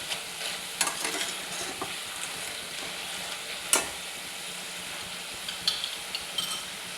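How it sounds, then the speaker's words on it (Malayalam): Sliced jackfruit chips deep-fry in oil, giving a soft continuous bubbling sizzle with occasional sharper crackles and light stirring clinks, fairly quiet and close, with no talk. "ഇത് നമ്മൾ വറക്കപ്പോഴാണെങ്കിൽ നല്ലൊരു സൗണ്ട് കേൾക്കുവേ."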